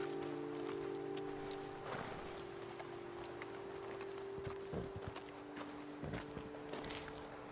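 Horses walking in the video game Red Dead Redemption 2, their hooves clip-clopping in an irregular, moderately close rhythm over a steady tonal hum with no talk.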